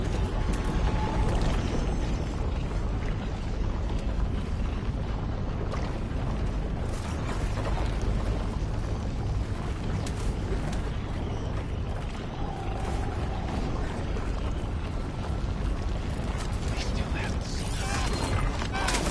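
Robotic machine creatures in Horizon Forbidden West whir, clank and creak with ratcheting, gear-like mechanical noises over a continuous rumbling game soundscape, loud and dense throughout.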